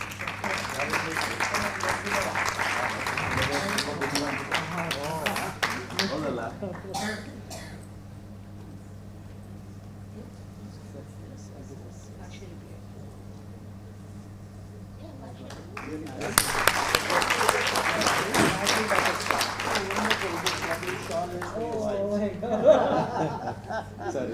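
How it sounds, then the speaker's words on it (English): An audience at a panel discussion on India's Olympic ambitions claps as a panelist is welcomed on stage. Two bursts of applause are separated by a quieter pause, with voices heard in the room. "Please give another big round of applause."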